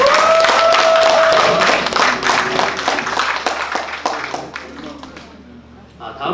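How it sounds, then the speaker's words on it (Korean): An audience at a vocal ensemble concert claps warmly for a performer, loud and dense at first and then thinning out and fading, with a voice talking over the start. "다시 한번 힘찬 응원의 박수 부탁드립니다"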